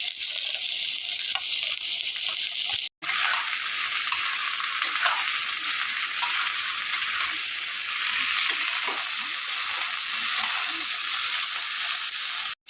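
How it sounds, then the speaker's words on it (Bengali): Vegetables and chillies fry in a pan in a loud, continuous sizzle that stays steady and close, with occasional stirring, broken by one brief drop near the start. "আমি এটাকে ভেজে নিচ্ছি"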